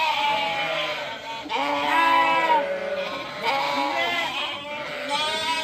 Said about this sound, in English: moved the ewes and lambs back out to the field